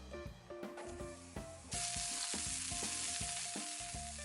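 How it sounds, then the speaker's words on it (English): Torn shimeji mushrooms fry in a little oil over medium-high heat. A steady, close sizzle grows louder partway through, with occasional clinks and stirring sounds over the top. "just tear it up like so and fry them over medium-high heat with a little bit of oil"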